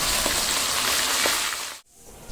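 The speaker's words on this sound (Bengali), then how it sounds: "মাথাগুলো ভেজে নিচ্ছি" Fish heads sizzle steadily in a hot pan for Bengali cooking, a dense close frying hiss that cuts off abruptly near the end before resuming.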